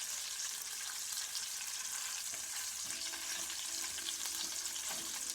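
Meat browning and searing in a hot pan, a faint, steady sizzle and hiss that stays even throughout, heard close without any voices.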